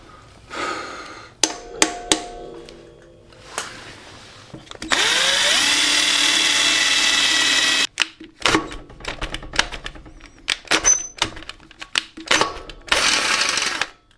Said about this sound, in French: j'espère que la perceuse va passer